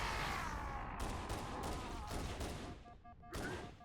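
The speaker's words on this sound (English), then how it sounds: "Just trying to get the plasma and grenade combo going on there." Loud, dense gunfire and explosions from combat in the Halo video game, with plasma weapons and grenades in a sustained burst, followed near the end by a few sharper electronic tones.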